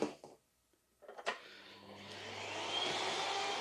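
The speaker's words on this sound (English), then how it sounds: "Now we take a vacuum on a low power" A vacuum cleaner fitted with a stocking over the nozzle switches on at low power after a few clicks and knocks, then settles into a steady, soft whirring hum that builds slightly and runs on alone.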